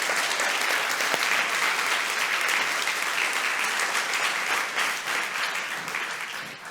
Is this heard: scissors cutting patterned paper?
no